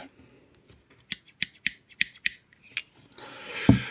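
Spring-loaded rescue scissors on a Nextorch Pioneer MT20 multitool snip through clothing fabric in about seven crisp, evenly spaced cuts, close and clear, followed by a rougher rustle of cloth.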